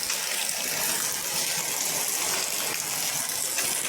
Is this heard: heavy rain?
yes